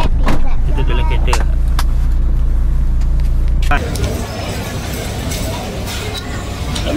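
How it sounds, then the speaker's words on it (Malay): Steady, loud road rumble from inside a moving car, with a noticeable shift in tone partway through as the ride continues. Faint voices murmur under the engine and tire noise. "Kita dalam kereta."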